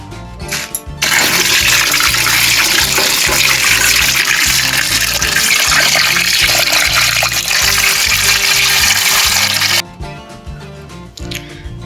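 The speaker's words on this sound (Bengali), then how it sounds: "চলো মাছটা আমি ধুয়ে নিই।" Silver fish being washed under a running kitchen tap: a strong, steady gush of water splashing over the fish for about nine seconds, with handling sounds just before and after.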